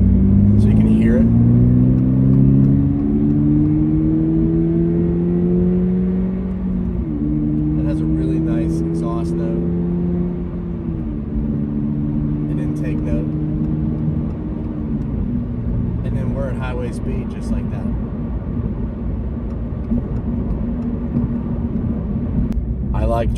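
A 2024 Subaru BRZ tS with a manual gearbox cruising on an open road, its engine drone rising and stepping down through gear changes, with steady road rumble and occasional brief wind or clicking noises.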